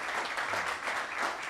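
A church congregation clapping together in a short, dense burst of steady applause, even in level throughout, with no voices standing out.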